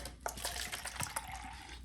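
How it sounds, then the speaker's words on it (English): Purified drinking water pours from a container into a cup, a short, faint trickle and splash of liquid heard close up. "I have purified drinking water, and I'm going to pour this in a cup."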